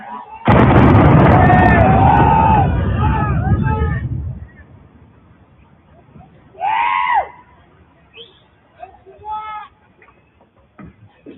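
A drone strike explosion, a loud, broad blast, roars for several seconds and fades, followed by scattered shouts and cheers from a crowd nearby.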